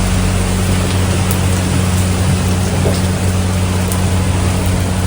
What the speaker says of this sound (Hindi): बारिश इतनी तेज़ आई है